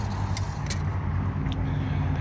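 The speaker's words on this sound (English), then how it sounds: "The idle's a little bit low." The engine of a 1938 Ford rat rod bus idles a little low, a steady, close, rumbling drone with an even tone throughout and no pauses.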